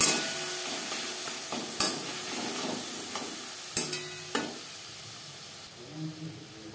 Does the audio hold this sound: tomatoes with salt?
yes